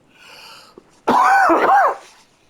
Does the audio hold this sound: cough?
yes